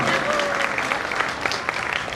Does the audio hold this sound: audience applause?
yes